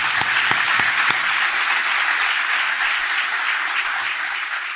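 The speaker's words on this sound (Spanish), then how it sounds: "Démosle un fuerte aplauso entonces al Señor." Congregation at a Christian service in El Salvador gives a strong round of applause, a few crisp separate claps at first and then a dense, sustained roar of clapping that eases slightly toward the end.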